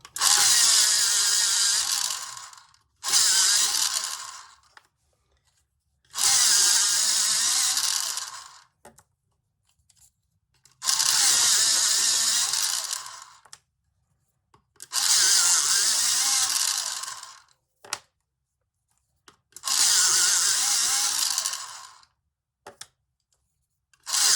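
An electric sharpener grinds down a colouring pencil in five loud whirring bursts of about two to three seconds each, separated by short pauses and a few faint clicks, with no talking.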